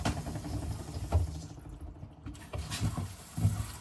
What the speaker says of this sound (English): Let's try the hot water.